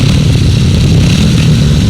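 Grasstrack racing motorcycles rev hard at an international meeting, a loud, dense and continuous engine roar with a clattering texture that fills the whole stretch without a break.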